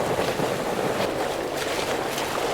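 Wooden sailing ship sailing between Caribbean islands in Microsoft Flight Simulator, a steady wash of wind, water and waves against the hull, continuous and fairly loud with no talking.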